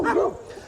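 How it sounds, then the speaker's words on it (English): A single close, loud bark from a guard dog at home, sharp and brief, followed by a quieter tail-off. "Millie, I know you're such a good guard dog."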